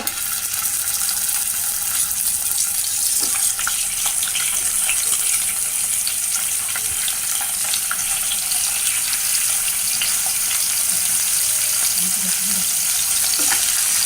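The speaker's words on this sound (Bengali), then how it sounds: "তো আমি এখানে অল্প একটু তেল দিয়ে দিচ্ছি আমি মাছগুলো ভাজা করবো" Fish pieces frying in oil give a loud, steady, close sizzle that crackles without pause throughout, with faint occasional clinks and no talking.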